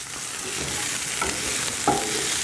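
Onions fry in a pan until crispy, giving a steady close sizzle with a few faint scrapes of stirring.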